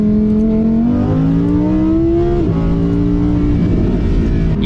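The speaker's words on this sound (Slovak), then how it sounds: "dám si Corsa, aby som vám ukázal, že akým spôsobom sa podraďujem" Lamborghini with a 640 hp engine in Corsa mode, revving loud and close as it downshifts, the pitch climbing, dropping sharply and climbing again with no talk over it.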